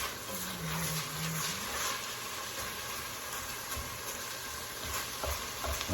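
Seasoned ground beef browning in a pan, with a steady, fairly quiet sizzle and occasional stirring scrapes running throughout and no talking.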